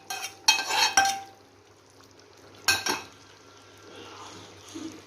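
Sautéed green chillies, onion and coconut tipped into a chicken masala gravy: two short bursts of scraping and sliding as the mixture is poured in, then quiet pan noise with a faint sizzle.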